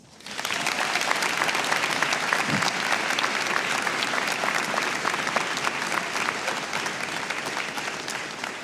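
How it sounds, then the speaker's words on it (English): Commencement audience at a Berea College graduation ceremony breaks into sustained, dense applause that rises quickly and holds steady for several seconds, filling the hall with many hands clapping at once. "Please join me then in recognizing those special individuals in your lives with a round of applause."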